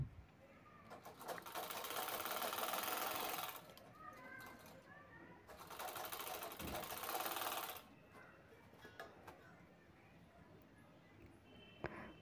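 A sewing machine stitches the corners of a fabric tote bag in two bursts of rapid, buzzing whir, each a couple of seconds long, separated and followed by quiet room noise.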